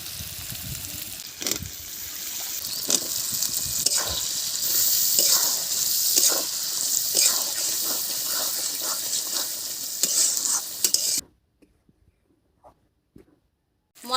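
Potatoes sizzle steadily in a pan with chopped tomato, turmeric, chili powder and salt while a spoon scrapes and stirs in repeated strokes. The frying runs for about eleven seconds, then nearly stops, leaving only a few faint clicks.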